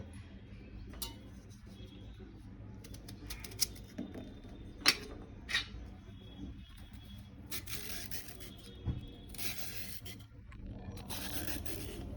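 A hand peeler scrapes along fresh carrots for gajar halwa, soft rasping strokes in irregular bursts with a few sharper clicks, quiet and close in a home kitchen, no voices.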